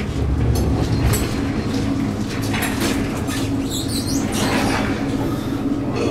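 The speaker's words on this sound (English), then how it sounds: "These are 1980s Westinghouse elevators." A 1980s Westinghouse traction elevator at Embassy Suites near the San Antonio airport travels between floors, giving a steady rumbling hum with clattering and rattling car noise, heard from inside the cab.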